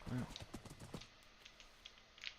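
Horse clip-clop hooves in Minecraft, a short run of soft, fairly quiet thuds in the first second, then a faint ambient game bed with a few small clicks, no talking.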